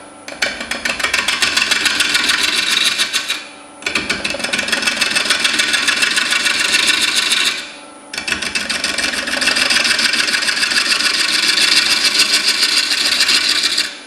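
A lathe gouge rubs and scrapes against an uneven 12-inch red oak bowl blank with a loud, close, rasping drone. It comes in three long passes of about four seconds each, split by short pauses, and the spinning blank adds a rapid repetitive knock.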